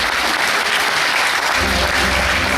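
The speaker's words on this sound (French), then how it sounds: "applaudissements s'il vous plaît" Audience applause welcoming a junior player at a 2012 club presentation, a dense steady wash of many hands clapping, loud and continuous throughout with a low rumble joining partway.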